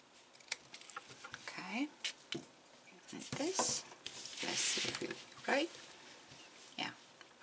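Scissors snip through a crocheted piece for a sea shell purse, a series of close, crisp cuts and rustles spread across the stretch, with no one talking.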